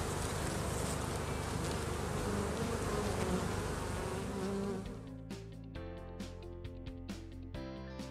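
Honeybees at an opened beehive give a dense, loud continuous buzz up close during artificial dequeening, then the hum thins and gives way to clicks and knocks of hive handling.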